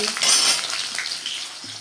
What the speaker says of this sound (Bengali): এখানে হচ্ছে তোমার ঘুগনির আলু ভাজা করতে বসেছি